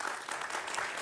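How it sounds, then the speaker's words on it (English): Audience applause at a memorial scholarship presentation during a transportation conference, a steady even wash of clapping from a sizeable crowd, close and sustained for the whole second. "And we can applaud that."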